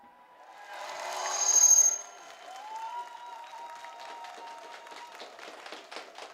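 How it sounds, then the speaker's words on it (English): A school audience claps and cheers during a live radio contact with the space station, swelling to a peak then fading into scattered clapping, heard faint and filtered over a radio link. "And a big cheer from the school."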